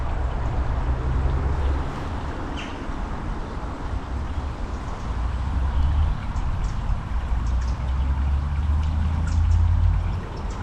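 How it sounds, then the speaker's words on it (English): Spring water trickles into a small pool in a quiet grotto at the source of a brook on a cool March evening, a steady soft burble and rush that continues throughout, with no talking. "just enjoying the calm, peaceful sounds of this little grotto. It's really nice. And the trickling water"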